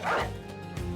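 A dog in the video game Battle Brothers gives a single short, sharp bark, close and loud, with a brief whimpering tail.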